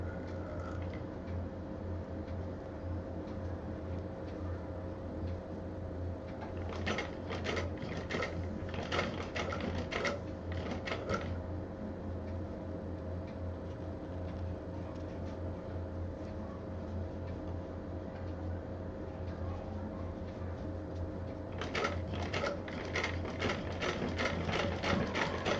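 A sewing machine stitches a stylish fabric purse in two short runs of rapid, even needle clatter. The sound is faint and set against a quiet, steady background hum.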